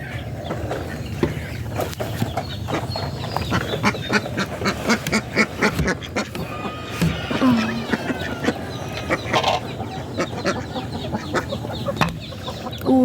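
Ducks quacking and clucking nearby in a farmyard, a busy run of repeated calls over a low background of other fowl, with a brief murmur of voice.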